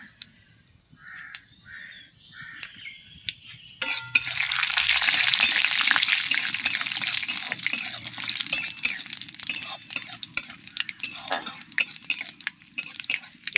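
Dried red chillies and panch phoron hit hot oil, a loud steady crackling sizzle that bursts in abruptly a few seconds in and carries on with scattered pops, with crows cawing faintly in the background before it.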